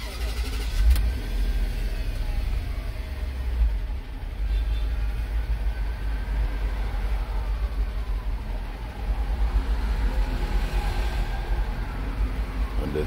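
A 2008 Range Rover with a smoking fault after a new PCV valve, its engine running with a low steady idle rumble close by, a brief starting catch near the beginning, and the faint rush of the surroundings.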